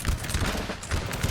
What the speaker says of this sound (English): The artillery here is doing a lot of damage.